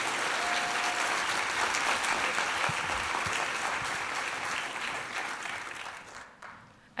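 Audience at a fall university convocation giving sustained, dense applause that fills the space evenly, then fades out near the end.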